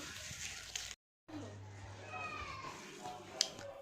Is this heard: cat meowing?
yes